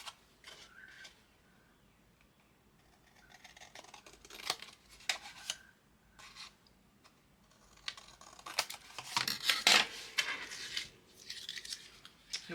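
Scissors snip the corners of paper for a bee journal, several crisp separate cuts in short bursts with quiet gaps, up close in a quiet room.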